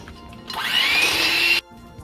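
An electric mixer whips French silk pie filling in a short burst of about a second, a loud whirring hum with a rising pitch that cuts off abruptly.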